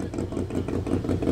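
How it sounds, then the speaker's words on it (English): Triumph engine with a tuned twin exhaust idling at a classic car show, a close, steady low rumble with a slightly uneven pulse throughout, no talk over it. "Triumph tune twin exhaust."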